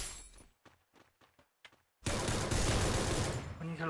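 Gunfire in the shooter game Free Fire, a sudden dense burst of rapid shots erupting loud and close after a few seconds of faint voice, continuing unbroken to the end.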